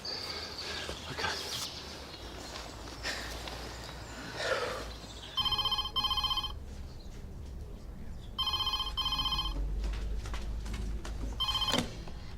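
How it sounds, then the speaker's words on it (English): An office telephone at a health centre rings in two distinct bursts of rapid electronic trilling, clear and fairly close, separated by quieter room sound with faint chirps and brief voices. "Why isn't she answering the phone?"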